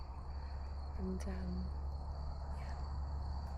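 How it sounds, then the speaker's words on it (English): Steady crickets chirp in a quiet outdoor setting near Turin, Italy, a constant high trill with a brief low murmur of a voice partway through. "The crickets are loud."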